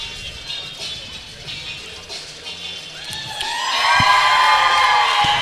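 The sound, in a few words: crowd cheering, doing the wave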